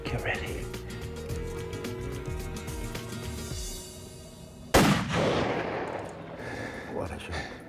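A single loud rifle shot fired at a fallow deer or mouflon sheep at about 183 yards during a hunt in Spain, cracking sharply and then echoing away, after a stretch of steady background noise.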